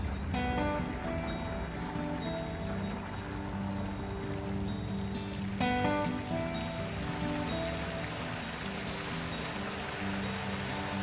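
Water flowing steadily in a public fountain at a traffic circle, a continuous splashing rush with faint clinks and tones mixed in, even and unbroken throughout.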